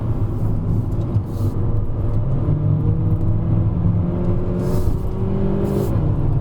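Volkswagen Vento 1.2 TSI on a hillclimb run at Genting, its engine a steady, loud, continuous in-cabin drone with rising tones as it pulls through the gears, no talk.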